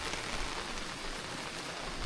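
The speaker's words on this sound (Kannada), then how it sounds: "ಮಳೆ ಬರುತ್ತೆ ಹೋಗುತ್ತೆ." Steady monsoon rain hisses evenly without pause near Savehaklu Dam, Shivamogga, a dense wash of drops falling on a surface with no voices.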